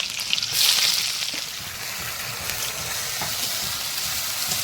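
Cumin seeds hit hot oil for tempering in a home kitchen, a loud hiss that flares at once and then settles into a steady close sizzle, with no talk.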